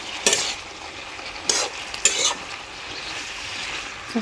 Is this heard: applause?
no